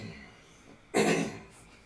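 One short, harsh cough bursts out nearby against a quiet background, followed by a brief fading breathy tail.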